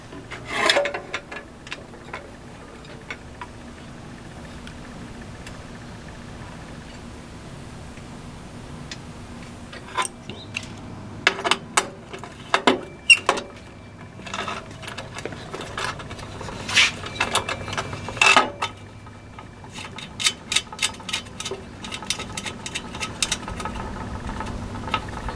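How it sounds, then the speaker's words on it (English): A nut is loosened and tightened with a wrench to tilt the table of a Shopsmith band saw, giving close, irregular metallic clicks, ratcheting ticks and rubbing scrapes in short bursts. "there just happens to be a nut that I can loosen and tighten with a bolt that will allow me to tilt the table"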